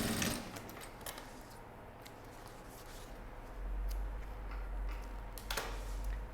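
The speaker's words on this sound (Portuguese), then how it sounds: "Fiz a costura de rebatido dos dois lados." A sewing machine stitches a topstitch seam on a small fabric pouch, running quietly with a soft ticking rhythm and a low motor hum that grows slightly louder partway through.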